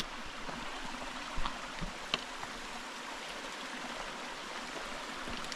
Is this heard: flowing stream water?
yes